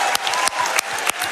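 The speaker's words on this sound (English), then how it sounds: "Give him a round of applause, please." Lively applause from a group at the AGDQ 2020 speedrun event, with several strong claps standing out at a regular pulse over the dense clapping.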